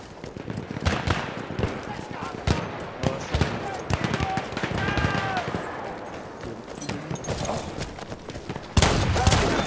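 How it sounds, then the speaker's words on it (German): Shotgun blasts and other gunfire ring out in Battlefield 1 multiplayer, sharp repeated bangs scattered across a busy battle mix with voices talking over the action. "Die Shotgun, die kann aber krass sprayen."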